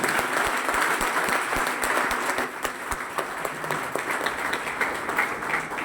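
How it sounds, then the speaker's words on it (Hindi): Sustained audience applause welcoming a speaker at a Sunday closing event, a dense steady wash of many hands clapping at a constant loud level with no talking. "जब मैं उनका नाम लूं तो सर का तो एक जोरदार तालियों से सर का स्वागत करेंगे।"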